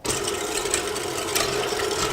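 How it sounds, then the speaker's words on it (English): Stand mixer with a whisk attachment running on slow speed while whipping egg whites for homemade marshmallows, giving a steady, close mechanical whir and hum that stays even throughout. "Make sure you've got the whisk attachment and start the speed on slow."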